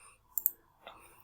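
Two quick, faint clicks close together, then a softer third click, like a computer mouse in a quiet room.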